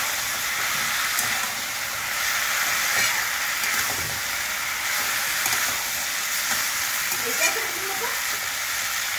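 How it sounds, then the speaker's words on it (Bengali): Tomato fries in a pan with garlic paste, giving a continuous close sizzle and hiss with occasional scraping stirs and faint crackles throughout. "টমেটোটা পুরো ভাজা ভাজা করলাম"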